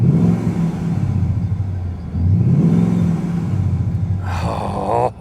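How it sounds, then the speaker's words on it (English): A 600-horsepower ProCharger-supercharged V8 Mustang engine revs up and settles twice, loud and near, then a high supercharger whine rises at the end. "Listen to that Procharger."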